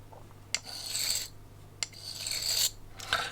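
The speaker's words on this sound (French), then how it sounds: "je me sers de toute la longueur de la lime" Two long, slow rasping strokes of a sharpening file drawn along a carp fishing hook point, close and fairly quiet over a low steady hum, each stroke set off by a small metallic tick.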